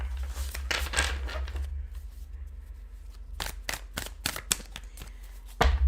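Tarot cards being shuffled in quick riffling bursts, crisp papery flutters at the start and a run of sharp separate snaps later, close and fairly quiet.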